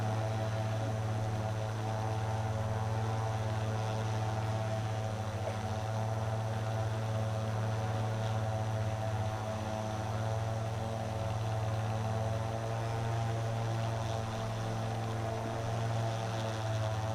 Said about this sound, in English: At the launching base, the drone will perform a landing mission